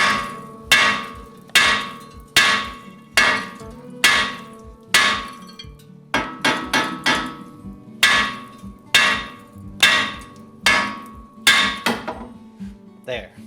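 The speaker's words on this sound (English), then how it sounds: "we're going to take our hammer, our sledgehammer, and we're going to hit it right here on the metal" A sledgehammer pounds the metal of a ball joint on a 1993–1998 Jeep Grand Cherokee ZJ, a series of about seventeen loud, close, ringing clanks in an uneven rhythm with short pauses between groups.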